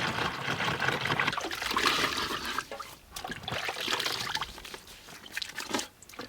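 Tap water pours and trickles into a new jug, a continuous splashing stream that thins briefly around the middle and near the end, close and fairly quiet.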